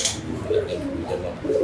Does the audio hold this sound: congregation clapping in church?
no